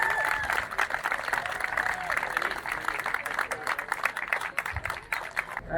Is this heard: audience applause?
yes